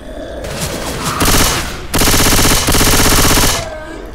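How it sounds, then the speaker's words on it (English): Loud, rapid automatic bursts from a silenced Uzi in the zombie shooter Left 4 Dead 2, three sustained strings of fire separated by brief gaps, close and dominant. "that Uzi has a silencer on it, but I think that's silent. I know, it's actually quite loud"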